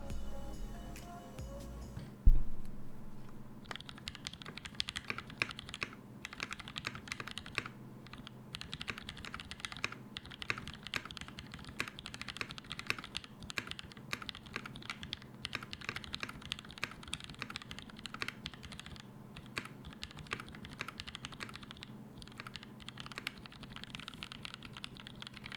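Typing on a Lumina laptop's keyboard with some slightly scratchy keys: a quiet, steady patter of close key clicks running throughout, alone with no talk.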